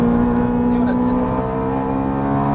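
A Ferrari F430 accelerates on the Circuit de Chenevières, its engine holding a steady, loud, tonal drone throughout, with a voice talking over it.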